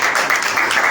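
Audience applause at a church program welcoming a pastor to the stage, a dense steady wash of clapping that fills the whole short moment at full loudness.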